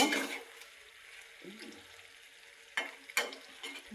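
Rohu fish pieces dropped into a hot pan of half-cooked ash gourd, giving a steady sizzle with a few sharp bursts of crackling as they land.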